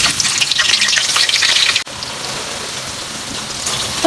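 A handful of sliced onions drops into hot oil for mutton kacchi biryani, bursting into a loud, dense crackling sizzle that dips for an instant and then settles into a steady hiss, with no talking.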